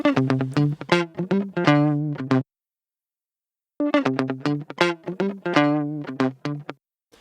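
Processed electric guitar plays a quick, choppy disco riff of short picked notes, pauses in silence, then repeats the riff with a thinner, lighter tone from a low shelf EQ cut at 340 Hz.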